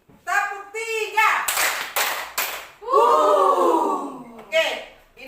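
Children chant, then several sharp claps ring out in a quick burst before the voices rise again.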